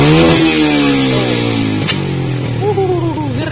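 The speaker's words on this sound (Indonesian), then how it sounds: "Oke, mungkin telah tadi sedikit review untuk knalpot T-Revo diinstal di Bison Karbu." Yamaha Byson carburetor motorcycle fitted with a T-Revo aftermarket exhaust revs loudly up close, the engine note dropping and then climbing again in quick throttle blips, with a sharp pop partway through.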